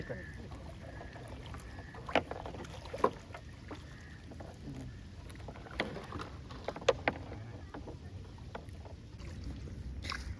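Water sloshing and splashing around a small rowing boat on a river, with intermittent oar strokes and knocks over a steady outdoor rumble.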